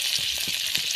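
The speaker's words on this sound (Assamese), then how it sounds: "এতিয়া ফ্ৰাই কৰি আছোঁ" Fish fries in oil, a steady bright hiss and sizzle with faint low stirring thumps underneath, close and continuous with no voices.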